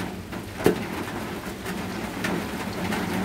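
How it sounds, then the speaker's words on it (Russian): Heavy rain drums steadily on a roof, a continuous dense patter with a few sharper drips and thuds, including one clear louder knock near the start, and no voices. "как страшно шумит по крыше дождь"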